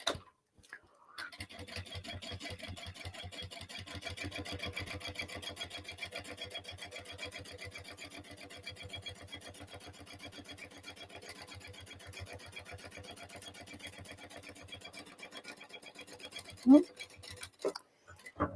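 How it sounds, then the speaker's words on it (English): A sewing machine stitches steadily while basting a slip pocket onto a crossbody bag, a fast, even mechanical patter at close range, fairly quiet, with a brief louder clunk near the end. "I'm just going to baste round to keep this slip pocket in place."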